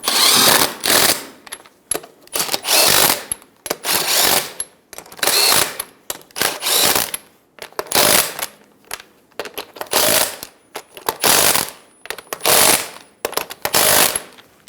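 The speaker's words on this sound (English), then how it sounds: "Snug the nuts down." A power tool runs the lug nuts snug on a rear wheel of a 2010-2014 Subaru Outback after a strut shock assembly replacement, with repeated loud rattling bursts of about a second each, separated by short pauses.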